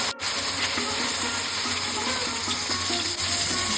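Ground spices such as ginger paste, turmeric, salt, chili powder and cumin paste fry in oil with fried potatoes for a fish curry, giving a steady close sizzle with faint stirring, no voices.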